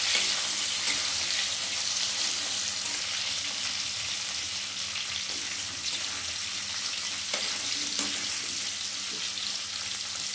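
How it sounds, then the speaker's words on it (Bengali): Eggplant stirred into pumpkin and potato frying in a pan, a steady loud sizzle with scraping stirs and soft knocks over several seconds. "ভালো করে নাড়বো।"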